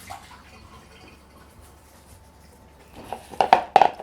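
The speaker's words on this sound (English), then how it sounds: "Tip out your water." Quiet room tone, then a short burst of splashing as water is tipped out of a foam Viking shield mould, several quick pours and drips near the end.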